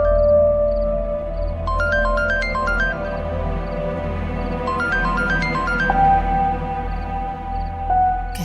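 A phone ringtone plays a repeating electronic melody in two bursts, close and clear, over a low steady background hum.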